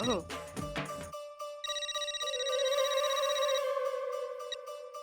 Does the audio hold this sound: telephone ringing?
yes